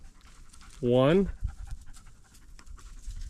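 A dog out on a spring antler shed hunt pants steadily and softly, while a person briefly speaks a single word over the breathing.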